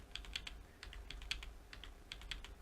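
Rapid bursts of keystrokes on a computer keyboard during data entry for a mini rugby festival schedule, clicking in uneven clusters, close and fairly quiet with no talking.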